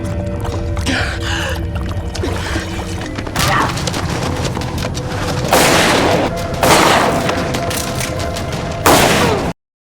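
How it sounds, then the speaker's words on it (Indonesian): Gunfire rings out in an action film battle at an armed compound, with loud bursts of shots at intervals over a rumbling background, and no voices. "Kendall menembak tanpa ragu, menjatuhkan siapapun yang menghadang jalannya"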